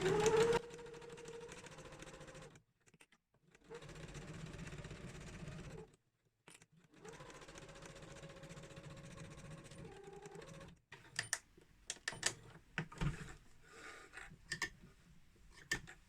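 A sewing machine stitches the seams of a drawstring bag in several close bursts of whirring motor separated by short pauses, ending with a quick back tack and handling clatter.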